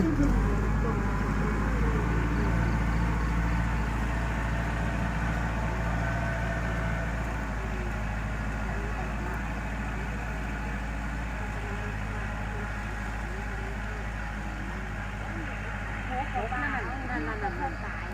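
A tractor engine drones steadily while plowing a sandy rice field, a constant low rumble with hum and rattle lasting throughout, with people talking over it.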